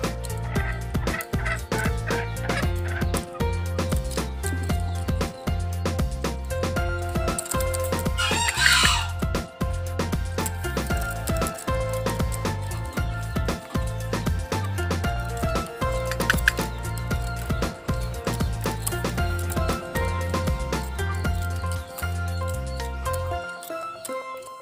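Green junglefowl calling repeatedly from a cage, its crowing calls rising over a continuous loud bed of background music throughout.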